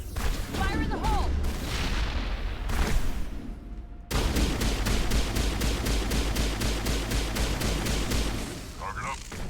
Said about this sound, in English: Throw a grenade. Fire in the hole!